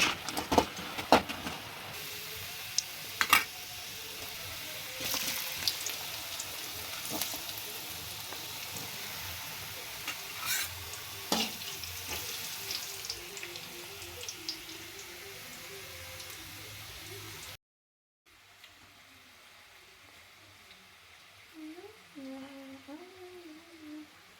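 Finger chips fry in hot oil, a close, continuous crackling sizzle with scattered sharp pops. It then cuts to a quieter, softer background with someone talking.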